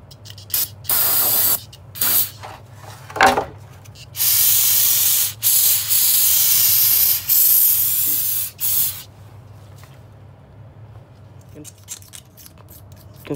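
Repeated bursts of brake cleaner aerosol spray hissing loudly while cleaning a Honda Accord 2.4 L engine during valve cover gasket replacement, some short and some held for a couple of seconds, with quieter gaps and faint handling noise between.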